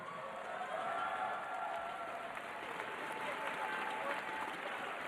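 Audience at an IPL esports event in San Francisco applauds a player after his interview, a dense, steady wash of clapping and crowd noise that holds at even loudness throughout.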